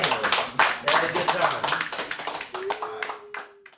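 A few people clap in scattered, uneven bursts close by, with voices talking and calling out over the claps in a casual, lively room.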